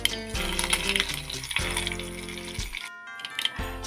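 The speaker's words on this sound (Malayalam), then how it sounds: "കടുക് പൊട്ടി വരുമ്പോഴേക്കും നമുക്ക് കുറച്ച് കറിവേപ്പിലയും കൂടി ആഡ് ചെയ്ത് കൊടുക്കാം" Mustard seeds and curry leaves sizzling in hot coconut oil for a Kerala ginger curry, loud crackling and spitting over a sustained tonal hum that cuts out briefly and returns, no voices.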